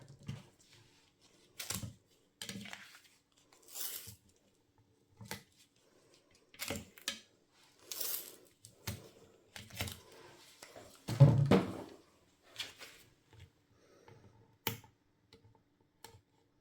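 Foam tape handled while assembling a handmade personalised pop-up card: a string of brief, close ticking and peeling clicks scattered across the quiet, with one louder rustling burst partway through and no talking.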